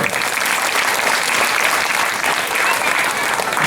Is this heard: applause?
yes